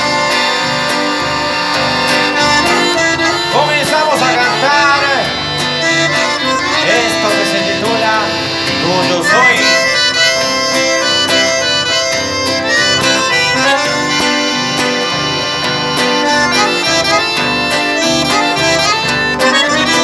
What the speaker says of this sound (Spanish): El chamamé suena así de esta manera.